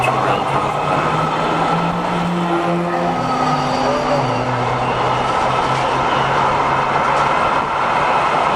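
A new Metro Gold Line light rail train passes by, a steady, fairly loud rumble of wheels and rails with a few drawn-out tonal squeals, continuous and without voices.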